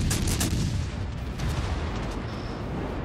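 Naval gunfire from an enemy cruiser in World of Warships Legends, a dense continuous rumble of heavy distant booms with a few sharper reports early on, steady and loud throughout without talk.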